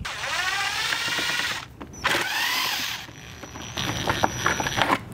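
A power tool whirs in short bursts while removing screws from an Audi lock carrier, with a few clicks and ratcheting noises in between the runs.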